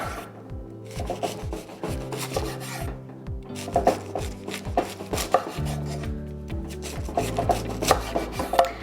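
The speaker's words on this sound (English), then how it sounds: "And then from here, we can actually just slice it." A knife slicing through fennel on a cutting board, a rapid series of crisp, close, repeated cuts with thuds as the blade meets the wood, heard alone without talk.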